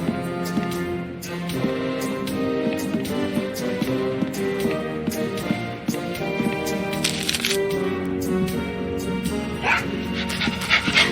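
Small dog yipping and barking in Tales of Monkey Island, short bursts over game music and effects, with someone talking.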